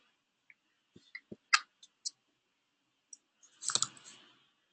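Crisp computer mouse clicks sound in a scattered sequence while setting up user libraries in software, a few sharp single clicks followed by a quick cluster of louder clicks near the end, close and fairly quiet with no talk.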